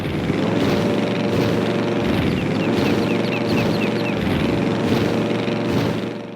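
Steady droning airplane engine in Wii Sports Resort, a continuous near hum with gentle rhythmic swells like spinning propeller passes and airy whooshes, holding level before easing off at the end.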